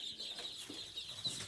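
Baby ducklings in a brooder make faint, thin high peeping calls, repeated in quick irregular chirps close by, with no talking over them.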